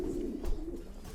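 Kipp und Sohne racing pigeon cooing up close, a low steady throaty coo rolling continuously through the moment with a slight swell midway, no voices.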